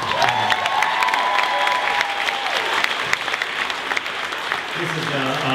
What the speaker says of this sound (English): I know you want to clap for Dennis and Zach